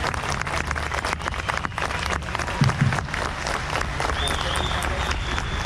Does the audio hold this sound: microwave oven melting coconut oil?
no